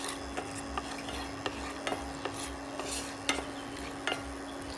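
Peanuts and black cumin stir-fry in oil with a low, steady sizzle, while sharp spoon clicks and scrapes against the pan repeat every half second or so up close.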